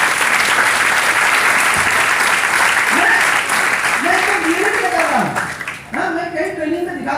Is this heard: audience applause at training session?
yes